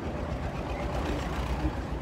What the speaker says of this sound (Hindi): ट्रैक्टर आ गया हमारे आगे से